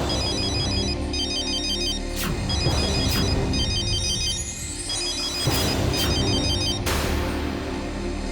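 A telephone ringtone repeats in loud electronic bursts against a steady background hum, ringing several times with no talking over it.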